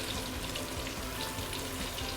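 Pork belly deep frying in hot oil, dense steady crackling and bubbling, loud and close, continuous with no pauses or voices.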